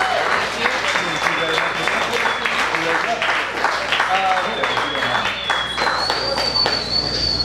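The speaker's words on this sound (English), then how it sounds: "So please, a round of applause." Studio audience claps steadily for a guest on a talk show, a full continuous round of applause with a faint voice heard through it.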